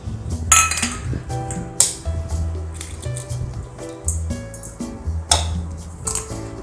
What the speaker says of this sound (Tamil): முட்டையை அதில் உடச்சி ஊற்றணும்